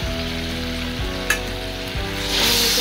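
Spice masala of cumin, coriander and chili powder frying in a pan gives a steady, loud, close sizzle that runs throughout, with one brief clink of a utensil partway through.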